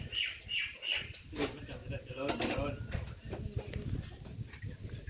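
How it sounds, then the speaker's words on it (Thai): Someone cuts pork steak with a knife, giving scattered taps and clinks against a board amid low background murmur and clatter. "หั่นหมูกันอยู่พี่น้อง"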